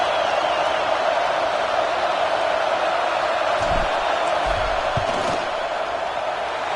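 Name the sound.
football stadium crowd yelling during field goal attempt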